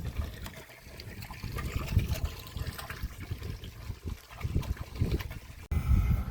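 Water gushing steadily from the 40mm delivery pipe of a 5HP AC borewell motor on a farm, a loud continuous splashing pour with a brief break near the end.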